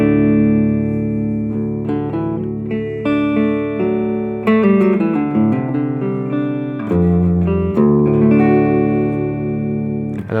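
Rhythm guitar played through a Supro amplifier set to Class AB at 50 watts, a clean recording tone with strummed chords and single-note runs ringing steadily, full and upfront with no talking.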